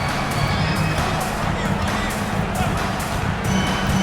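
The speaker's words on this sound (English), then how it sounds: "the double clutch jam wows the crowd" A virtual arena crowd in the NBA 2K basketball video game roars steadily after a double-clutch dunk, a dense continuous cheer and hubbub with a commentator's voice running over it.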